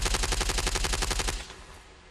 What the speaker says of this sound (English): one SAS soldier is hit by a wild spray of gunfire